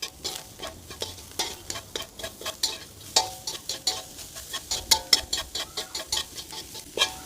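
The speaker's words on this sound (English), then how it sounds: "add in the onions. And give it a good mix." A spoon scrapes and stirs onions into a sizzling chicken samosa filling in a pan, making quick, rhythmic strokes over a low frying crackle, close up and without speech.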